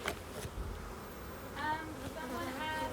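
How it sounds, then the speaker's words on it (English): Forager bees fly in and out of a honeybee hive, their buzzing wings making a steady droning hum with individual bees whining closer in passing, as a voice talks quietly underneath. "it's like the bees you see flying around going in and out of the hive, they're the older bees, they're the forager bees"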